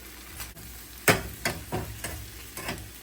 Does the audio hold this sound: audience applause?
no